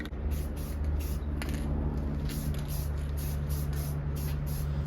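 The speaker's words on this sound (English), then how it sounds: "So now I'm doing the gold. And again, I'm taking that same approach where I'm spray painting it from a distance" Gold spray paint hisses steadily from an aerosol can onto a faux rock valve cover, a continuous close spray held from a distance with a few brief pauses and no talk.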